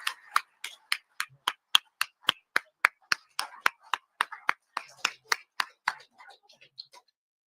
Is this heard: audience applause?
yes